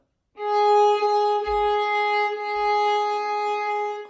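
Bar 10 of Aura Lee played on a bowed string instrument: a single sustained tone with rich harmonics, held steady for several seconds with slight bow changes and a faint low thump partway through.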